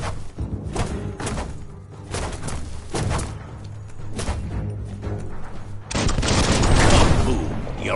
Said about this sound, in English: Shoot it and watch it blow.